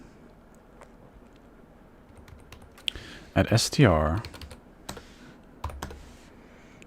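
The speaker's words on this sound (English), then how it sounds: "As I'm typing" Computer keyboard typing during C coding, a soft scatter of key clicks running under a man's speech, with a louder burst of keystrokes in the middle and sparse taps after.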